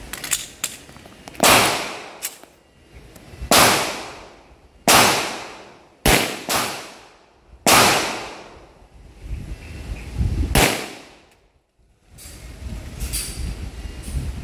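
Iron-sight gun zeroing at 5 meters: about six sharp, loud gunshots ring out one by one at uneven intervals, each followed by a decaying echo, with no talk between them.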